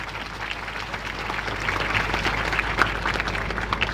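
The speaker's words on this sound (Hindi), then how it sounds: "एक जोरदार ताली बजा दो" An audience at a Pentecostal church youth seminar in India bursts into applause, a dense, steady clatter of many hands sustained for several seconds.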